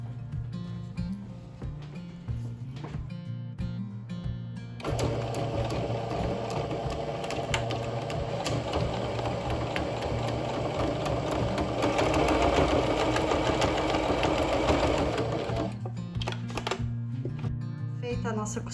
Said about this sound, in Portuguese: E aí a gente faz uma costura aqui, tá?